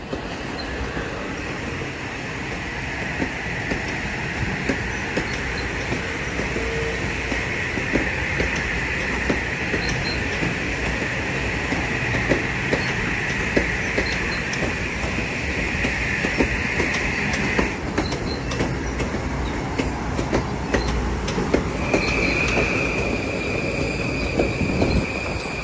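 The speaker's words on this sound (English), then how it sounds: "Here goes the train to New Haven now." A New Haven-bound commuter train, locomotive 9242 leading and 9418 trailing, rolls past a station platform with a steady rumble of wheels on rail, clicking joints and a brief high wheel squeal near the end.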